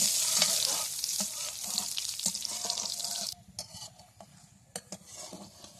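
Cumin seeds and dried red chilies frying in hot oil in a pan, a loud steady sizzle that suddenly drops to softer crackling and occasional utensil clicks.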